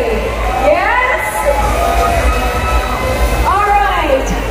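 An indoor crowd at the Century Tuna Superbods 2022 finalists announcement cheers and shouts with rising, wavering whoops throughout, loud and close, over a steady low background rumble.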